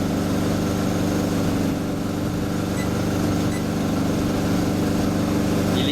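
A sailboat's engine runs steadily at constant revs on a motor crossing, a continuous low droning hum with no voices over it.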